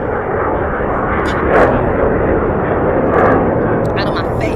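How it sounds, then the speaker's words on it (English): Airplanes roar loudly overhead in a steady, broad rumble that swells twice, while someone talks over the noise. "These planes."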